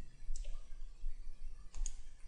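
A computer mouse clicks quietly during computer-aided design work in Autodesk Inventor, a couple of sharp, close double clicks about a second and a half apart over faint room hiss.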